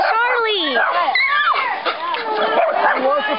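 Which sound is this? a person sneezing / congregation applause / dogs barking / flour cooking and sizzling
dogs barking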